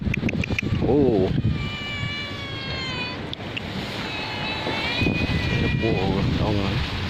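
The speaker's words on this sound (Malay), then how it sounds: "ada kucing." A cat meows several times on Ulee Lheue beach in Banda Aceh on a windy morning, the cries high and wavering near the start and again later, under steady wind and surf noise with people talking.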